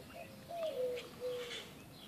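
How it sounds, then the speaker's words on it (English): Doves coo softly on a calm, cool spring morning in Texas after rain. Two low, drawn-out coos come from nearby in otherwise quiet surroundings. "being serenaded by doves this morning"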